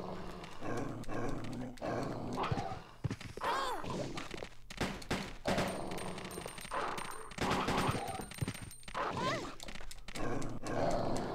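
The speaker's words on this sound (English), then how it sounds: "I was not expecting dogs to be here." Dogs in Resident Evil Code Veronica X snarl and yelp amid a noisy fight with rapid gunfire bursts, all loud and cluttered throughout.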